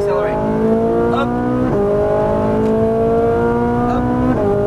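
A Ferrari 458 on a race track pulls hard, its engine note climbing through the gears with quick shift breaks, loud and close throughout.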